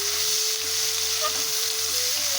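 Cumin seeds and onion sizzle in hot oil as a tempering for a tilapia mustard curry, a steady, close hiss with a faint hum underneath.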